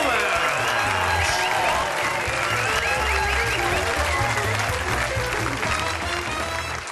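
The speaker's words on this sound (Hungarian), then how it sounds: "nagyon szépen köszönöm a tapsot" An audience at a stand-up comedy show applauds and cheers steadily as the comedian takes the stage, a dense, sustained wash of clapping.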